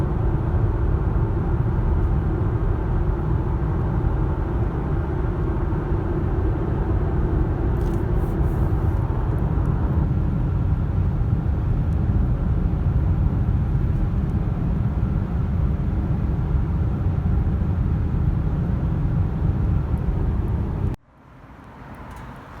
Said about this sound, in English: I'm driving down the street because I'm still in the middle of Georgia.